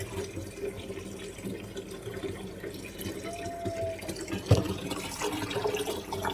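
Spinach greens washed in water, a continuous close splashing and running-water wash with light drips and one sharper knock near the end.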